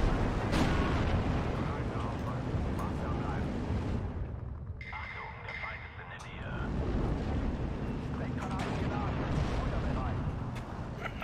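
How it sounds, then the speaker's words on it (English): Artillery fire in the Steel Division 2 World War II strategy game, heavy rumbling blasts and booms rolling continuously with a short lull midway, under occasional voices. "I'm getting torn apart by artillery in the center here."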